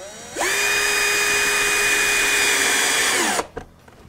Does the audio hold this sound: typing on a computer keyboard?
no